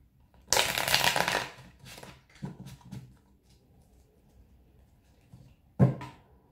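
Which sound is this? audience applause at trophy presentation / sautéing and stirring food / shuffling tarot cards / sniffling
shuffling tarot cards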